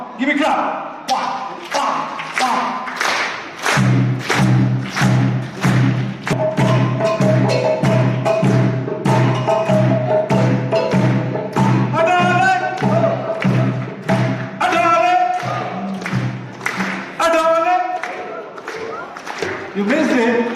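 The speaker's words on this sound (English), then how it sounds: "Now, give me a clap." Orchestra trainees at a hotel in Delhi clapping in sharp, rhythmic claps, close and loud, repeated through a musical training exercise with tones and voices under them.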